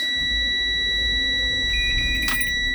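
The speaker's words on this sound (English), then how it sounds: "And you have your low air warning." A school bus dashboard low air pressure warning buzzer sounds as a steady, continuous electronic tone over a low engine idle, with a brief additional beep near the end.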